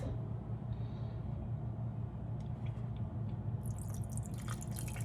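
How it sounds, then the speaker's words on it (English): Vegetable broth trickles and drips into a pot of cream of asparagus soup, a faint liquid pour over a low kitchen rumble, with some brighter splashy detail toward the end. "I'm gonna add some more of that vegetable broth"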